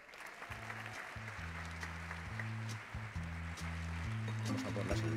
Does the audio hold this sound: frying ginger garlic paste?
no